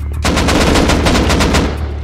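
Dense, rapid gunfire in the survival game Rust, a loud sustained burst of rhythmic shots lasting about two seconds with no talk.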